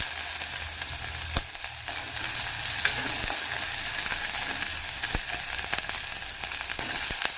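Cumin, pepper and curry leaves fry in hot oil for kodo millet pongal, giving a continuous close bright sizzle with a few small pops and stirring scrapes, no voices.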